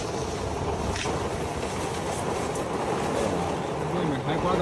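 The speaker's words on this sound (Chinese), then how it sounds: "这雨下得太大也不行啊！" Heavy rain pours at night over a small camper van on a cycling trip through Tibet, with wind blowing outside. A dense, unbroken wash of noise holds steady for several seconds.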